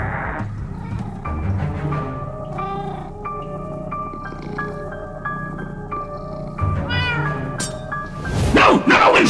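A cat in Minecraft: Story Mode meows and caterwauls in several drawn-out, wavering cries close by, over background game music, with a sharp noisy burst at the end.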